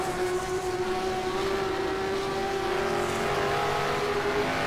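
Early-1970s Can-Am race cars at Riverside in 1971 blend into a constant distant engine drone with a faint steady whine, no single car standing out and no talk.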